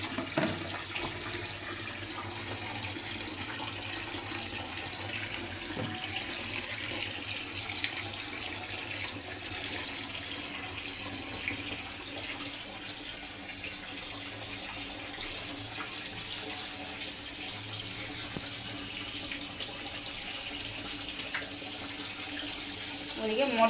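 A household water pump motor runs nearby with water flowing steadily, a continuous rushing, tap-like wash that holds level throughout with faint background voices.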